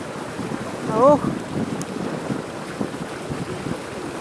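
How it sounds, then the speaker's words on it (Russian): Strong wind buffets the microphone on a boat in a lock on the Trent-Severn Waterway, a steady rough roar with a brief voice exclamation near the start. "Очень сильный ветер, да?"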